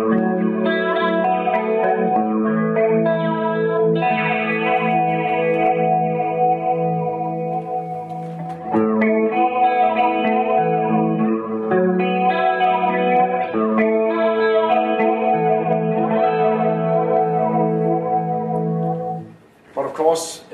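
Electric guitar through a TC Electronic Vortex Flanger pedal rings out in sustained chords and melodic lines, the sweeping flanger shimmer shifting as the delay time is adjusted, loud and close with a short break midway.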